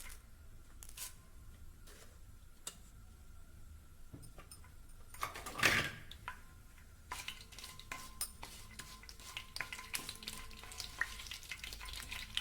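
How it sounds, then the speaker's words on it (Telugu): Chana dal and urad dal frying in hot oil in a pan, a quiet, close sizzle and crackle with clinks of a spoon against the pan and one brief louder scrape in the middle. "శనగపప్పు, మినపప్పు వేసి కొంచెం సేపు ఫ్రై చేసుకుందాం"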